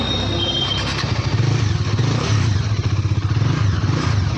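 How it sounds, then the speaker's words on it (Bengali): Bajaj Dominar motorcycle ridden on a Sunday outing, its steady low engine rumble throbbing close and loud throughout, with some clatter and wind noise. "ডমিনোরটা চালাতে যাচ্ছি, একটু ঘুরে আসি দেখি"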